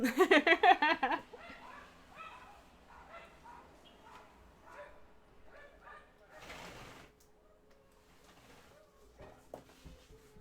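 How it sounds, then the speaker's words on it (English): A young German Shepherd puppy barks outdoors in a loud burst at the start, followed by repeated softer, more distant barks and yips, with a second dog joining in, set against a quiet background. "There's a little German Shepherd puppy out there. That's why. Yep, now there's double barks."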